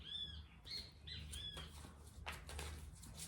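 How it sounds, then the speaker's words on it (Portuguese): A small bird chirps close by in quick, bright tweets at the start, then scratchy rustling and faint flutter follow over a quiet low hum, with no talking. "E o passarinho confirmou."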